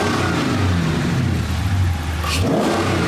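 A 2018 Dodge Charger police car engine revs loudly and continuously through its exhaust, rising and falling in pitch up close.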